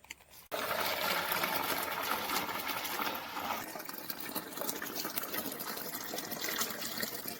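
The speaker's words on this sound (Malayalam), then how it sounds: "നമുക്ക് മെല്ലെ അടി ഇളകാതെ വെള്ളം ഒരു പാത്രത്തിലേക്ക് വാർത്തെടുക്കാം" Water is poured slowly off settled arrowroot starch into a vessel in a village kitchen, a continuous close trickle and gush that starts abruptly and runs steadily.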